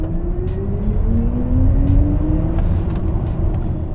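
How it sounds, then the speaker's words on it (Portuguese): A BMW iX electric car accelerating hard in Sport mode on a highway past a toll plaza toward 110 km/h, with rising tonal whine over steady road and wind rumble, close and continuous. "Eu vou fazer uma retomada no modo Sport até o limite de velocidade da via, que é 110."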